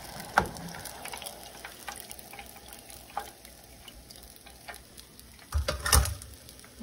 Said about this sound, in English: I'll fry them for 5 minutes and let's see.